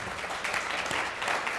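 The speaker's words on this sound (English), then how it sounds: "give just a round of applause to all of those wonderful panelists" Audience at a leadership summit policy session applauds panelists, a soft, steady wash of clapping heard from a distance.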